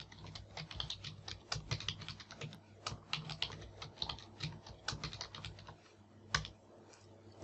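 Password keys tapped on a computer keyboard in a steady run of close, quiet clicks with brief pauses, alone with no talk.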